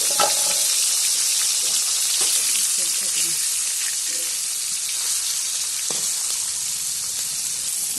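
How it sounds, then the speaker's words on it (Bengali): Singhi fish fry in hot oil in a wok with a loud, continuous sizzle and crackle, broken now and then by soft knocks of a utensil. "কড়াইয়ে এবারে তেল দিচ্ছি, দিয়ে মাছগুলো একটু ভেজে নেব।"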